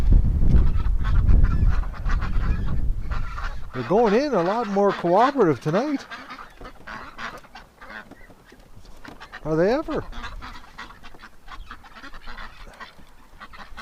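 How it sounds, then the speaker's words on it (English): Domestic ducks give wavering honking calls in short bursts while being herded into their shelter on a cold, windy winter night, with a person talking nearby between the calls. "They're being good little ducks."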